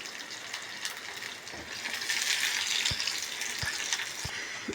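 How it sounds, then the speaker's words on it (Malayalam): Finely chopped shallots fry in hot oil after mustard seeds have popped, making a steady, close sizzle with a few soft pops. "കടുക് പൊട്ടി കഴിയട്ടെ മുഴുവൻ മൂന്നാല് ചെറിയ ഉള്ളി പൊടിയായി അരിഞ്ഞത് ഇതൊന്ന് ബ്രൗൺ ആറായിട്ട് വരട്ടെ"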